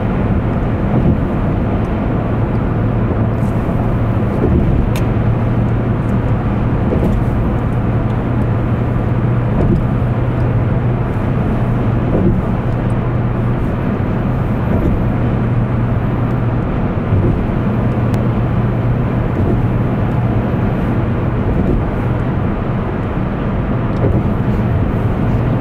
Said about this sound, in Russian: мы реально по мосту едем, даже слышно тык-тык-тык